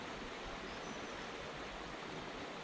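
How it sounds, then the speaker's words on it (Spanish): The Tagus river flows through a Spanish town, a steady even rush of water with no voices over it. "Es el río Tajo que atraviesa este pueblo."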